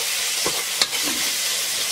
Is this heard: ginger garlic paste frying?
yes